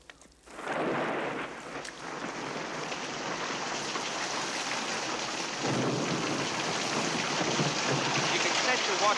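Heavy rain pours steadily in a tropical film scene, with rumbling thunder building after a quiet start and the downpour swelling louder midway, a dense continuous wash with no voices.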